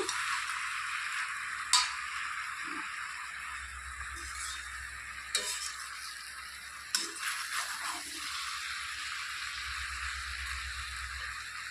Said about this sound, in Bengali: আবারও ঢাকনা খুলে একটু নেড়ে চেড়ে দিচ্ছি